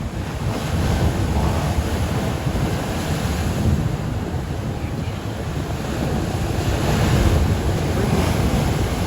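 Strong, powerful ocean surf pounds the coast of Ghana in a steady, loud roar, with heavy wind buffeting the microphone throughout and no voices.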